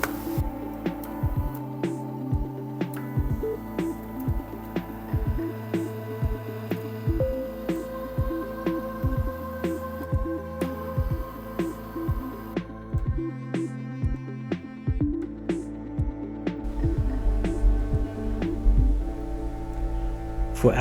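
An Arduino-driven stepper motor moves a router lift, whining in sustained tones that step up and down in pitch, punctuated by regular clicks at each start and stop, close and clear.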